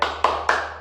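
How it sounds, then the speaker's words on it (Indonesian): Three sharp hand claps spaced evenly about a quarter second apart, a short rhythmic spirit clap led in a classroom-style session, close and clear with no talking over it. "Kita mulai. Tepuk semangat."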